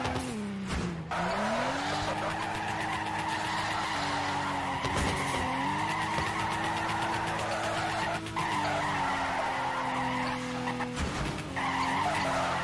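Engine roar and sustained tire squeal from a car drifting in the Torque Drift video game, loud and continuous with brief dips as the slide shifts, no voices.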